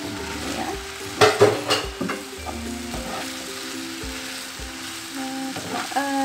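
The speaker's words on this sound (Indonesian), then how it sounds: "Nah, aduk deh." Homemade noodles seasoned with oyster sauce and light soy sauce sizzle and fry in a pan while a utensil scrapes and stirs them, producing several sharp clatters mid-way over a steady frying hiss, with tonal kitchen sounds near the end.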